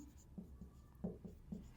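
Pen writing out a math solution on a set-theory exercise, a few faint, close scratchy strokes and taps in a quiet room.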